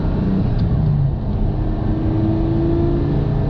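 A Porsche GT4 driving in fifth gear gives a steady, loud engine drone with road noise throughout. The tone stays fairly constant and holds a low hum, with no voices.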